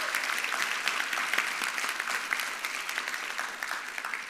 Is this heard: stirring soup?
no